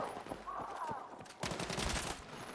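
Gunfire in the video game Battlefield 6, rapid bursts of automatic shots and sharp cracks close up, with game sound layered in the background over a short stretch.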